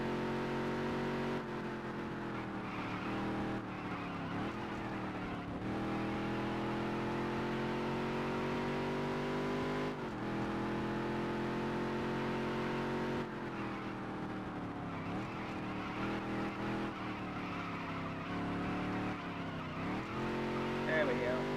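A modified race car engine drones through a racing video game, holding a loud, steady whine that dips and climbs with gear changes and cornering, while a player talks over it.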